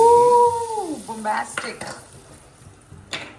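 A hot tempering is poured into cooked lentils for mango dal, giving a short burst of sizzling. Faint clatters from a pot and ladle follow, along with a few brief tonal sweeps.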